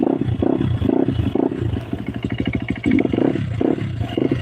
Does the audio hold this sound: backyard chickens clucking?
no